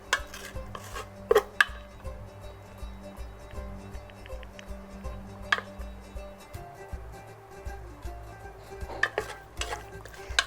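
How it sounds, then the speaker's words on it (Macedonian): A wooden spoon stirs and scrapes a pot after the second half of the leeks goes in, giving repeated soft clinks and scrapes over a low steady cooking hum with a few sharper knocks. "Сега ја ставам и втората половина од празот."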